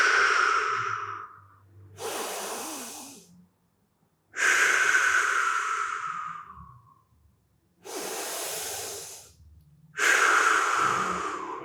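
Heavy, deliberate breaths during a hamstring stretch: five long, loud exhales and inhales close to the mic, each lasting one to two seconds with short pauses between, no talking over them.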